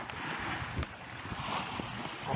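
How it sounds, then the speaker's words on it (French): Light wind on a sailboat sailing close-hauled off the Quiberon peninsula in southern Brittany, heard as a steady broadband rush of wind and water close to the microphone, with no one speaking. "on est au près là, avec un petit vent"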